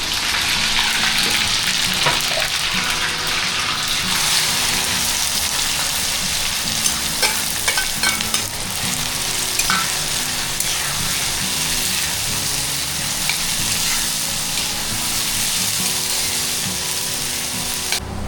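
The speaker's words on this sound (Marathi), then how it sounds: "कांदा मस्त पोलटला आहे." Onions fry in oil in a pan before chicken liver is added, making a dense, loud, unbroken sizzle with occasional sharper crackles and stirring scrapes heard nearby and alone.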